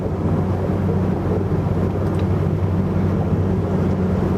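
Constant low rumbling drone of a boat engine on the Anzali Lagoon in Iran, with wind and water rush, loud and unbroken throughout.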